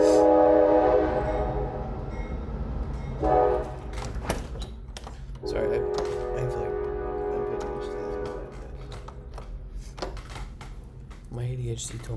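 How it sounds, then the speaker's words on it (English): A train passing nearby, sounding several horn blasts with harmonic tones, interspersed with rumbling wheels on track, while a person talks over it indoors. "Can you hear the train?"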